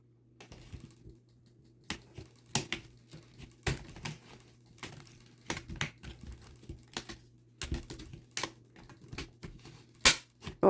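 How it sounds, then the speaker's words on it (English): Blade cutting through a plastic Dollar Tree laundry basket, heard as irregular sharp snaps and clicks with short pauses, some clustered, close-up over a faint low hum, no voices. "And then I'm just going to cut through it."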